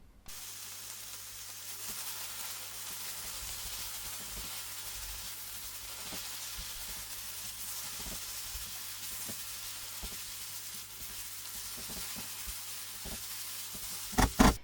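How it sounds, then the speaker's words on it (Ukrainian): Steady sizzling of mushrooms and onion frying in a pan, a continuous hiss for the whole clip, with a couple of louder clatters at the very end. "Печериці цибулькою продовжуємо смажити ще 5-7 хвилин."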